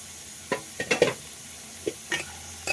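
Boiled potatoes fry in an uncovered pan as a spatula stirs them, a handful of distinct scraping strokes over a low background sizzle, close and moderately loud, with no voices.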